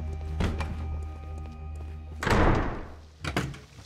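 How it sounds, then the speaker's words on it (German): A door slamming in the Sherlock Holmes Crimes & Punishments video game: a loud, close thump with a rushing decay, then a further knock, heard over a steady humming game background. "Die Tür ist wirklich laut."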